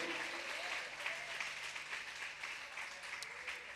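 A church congregation breaks into applause, a sustained, even patter of many hands that stays steady and fairly distant, with faint voices mixed in.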